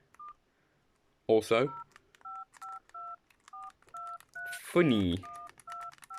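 A touch-tone phone keypad beeps out a string of short, evenly spaced DTMF tones, clear and close, with two brief spoken remarks breaking in among the presses.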